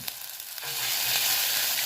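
Ginger garlic paste hits a hot pan already holding ajwain and cumin for Punjabi kadhi pakora; after a quiet moment, a loud continuous sizzle and crackle bursts up and holds steady.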